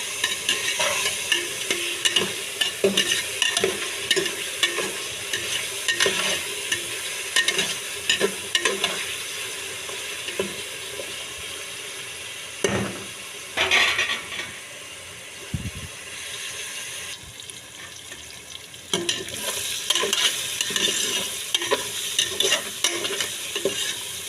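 Vegetables with carrot fry in a pan with a steady close sizzle while a utensil stirs and scrapes them in frequent irregular clatters, continuous throughout with no talk.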